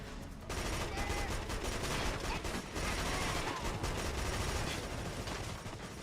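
Sustained video game gunfire in the sci-fi shooter Killzone 2, a dense continuous fusillade of rapid automatic shots at loud, close range, running almost unbroken through the whole stretch with only brief dips.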